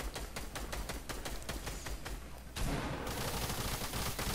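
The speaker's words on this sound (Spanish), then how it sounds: "Aquí es donde se empiezan a escuchar los pas, pas, pas, construcciones, disparos y todo eso" Gunfire from a squad-versus-squad fight in Fortnite, rapid repeated shots in a steady rattling rhythm, then a denser burst of firing, heard at a distance without talk.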